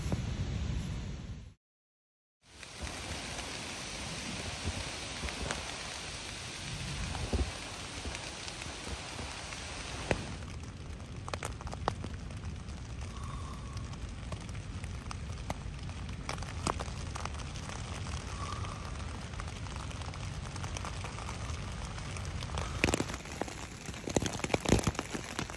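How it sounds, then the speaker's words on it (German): Steady rain drums on a tent at night during a bike tour along the Rhine cycle route, a dense continuous patter after a brief dropout near the start, with no talk. "Es regnet die ganze Nacht durch."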